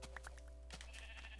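Two short sheep bleats from a Minecraft sheep on Xbox 360, moderately close, coming in quick succession over a steady low hum, with no talking.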